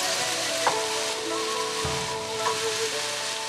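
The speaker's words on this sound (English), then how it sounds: "stir fry until heated through." Chicken, asparagus and green beans stir fry in a hot pan with coconut cream, giving a steady close sizzle broken by a few scraping stirs.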